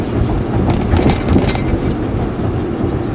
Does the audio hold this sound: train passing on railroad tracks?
yes